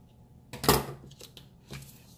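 Paper being cut with scissors for a planner spread, a loud crisp snip followed by a few quieter slicing and rustling sounds, close up and without speech.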